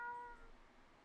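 A cat eating tuna gives one short, faint meow at the very start, then only soft background noise follows.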